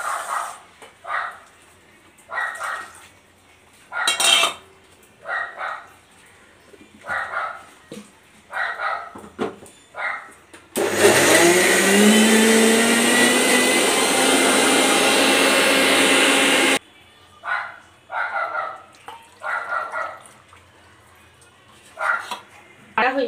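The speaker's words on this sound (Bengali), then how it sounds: "হয়ে গেছে সাগু আর আলু একসঙ্গে বেটে নিয়েছি" Mixer grinder grinding sago and potatoes with a little water, a loud steady whirring motor running alone for about six seconds, with a rising pitch as it spins up, framed by talk before and after.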